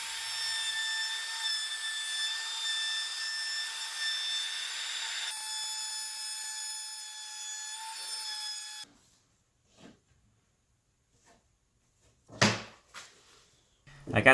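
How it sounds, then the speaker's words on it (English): A router cleaning up a cut-out in wood while building a barn door, whining steadily and loudly for about nine seconds before cutting off, followed by quiet with a few knocks and handling noises. "now I'm going to clean it up with the router."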